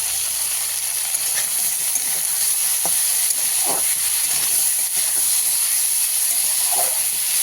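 Bitter gourd and pumpkin pieces cook in a pan with salt, turmeric and green chillies, giving a continuous close hissing sizzle with a few small clicks of stirring, no voices.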